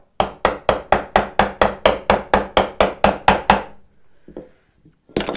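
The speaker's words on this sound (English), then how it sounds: "I'm going to make a lot of noise and chisel that right down" Mallet driving a chisel into wood to cut a half lap joint: about fourteen sharp, evenly spaced hard knocks in quick succession, loud and close, then a pause and one more strike.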